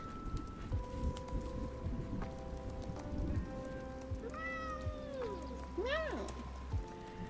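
A cat named River lets out loud, drawn-out meows, two rising-and-falling cries close by near the end, over a steady background hum with soft patter.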